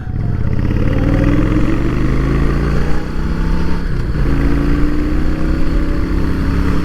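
A motorcycle engine drones loud and close throughout the ride, its pitch climbing in steady sweeps as it accelerates, easing briefly around a shift before rising again.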